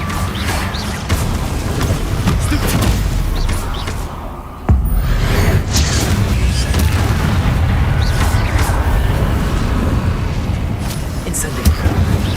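An Incendio fire spell in Hogwarts Legacy roars out as a sustained loud whooshing, crackling blaze with booming impacts, continuous for several seconds and broken by one sharp hit partway through.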